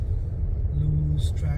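A car in four-wheel auto drives along snowy roads as a steady, low interior rumble of engine and road noise, with no talking.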